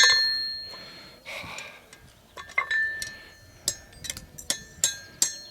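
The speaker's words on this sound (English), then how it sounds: "Bit of ironmongery being bashed with hammer." Sharp metallic clanks ring out as a hammer bashes ironmongery at a slingshot event, irregular blows with bright ringing tails, some louder and closer than others.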